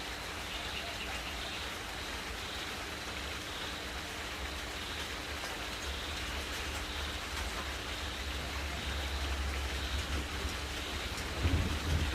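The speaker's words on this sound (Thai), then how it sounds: "ฟ้าร้องมากเลยค่ะ" Heavy rain pours steadily outdoors in a thunderstorm, with low rolling thunder rumbling underneath and growing louder toward the end.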